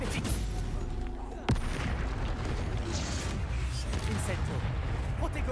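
Spells cast in combat in the video game Hogwarts Legacy: a busy stream of magical blasts and impacts, with a sharp burst partway through, as a voice talks over the action.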